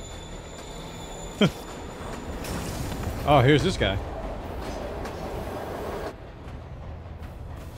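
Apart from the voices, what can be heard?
train moving in the video game Marvel's Spider-Man (PS4)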